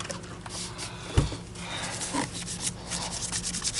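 A microfiber cloth rubs across the plastic of a Miele H1 S194 Quick Step universal upright vacuum's floor nozzle, making close, continuous scrubbing strokes with one brief sharper knock partway through.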